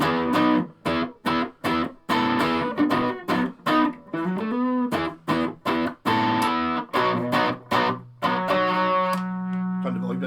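Gibson Korina SG electric guitar, a 1993 limited edition, played loud through a RAT distortion pedal with the gain set a little lower, rhythmic chord stabs separated by short gaps, ending on a sustained ringing chord.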